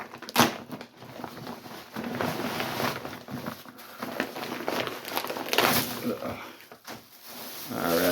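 Packaging around a new ring-style cast net being unwrapped, with loud bursts of crinkling and rustling and a few sharper thumps, in close, uneven bursts.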